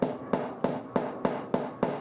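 A hammer striking the back end of a screw to drive a wall anchor into a wall: seven sharp, evenly spaced knocks in quick succession, close and clear with no talk.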